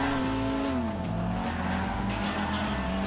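A small, nippy car in GTA revving high through a right-hand corner, its steady engine drone shifting pitch as it downshifts and pulls through, loud and continuous with faint tire noise and no talking.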